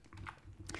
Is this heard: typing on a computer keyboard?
yes